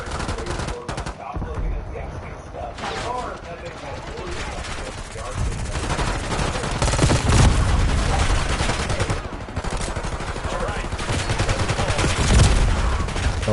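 Rapid gunfire in the Warzone video game, bursts of automatic shots and single cracks running loud and steady throughout, with players talking over the shooting.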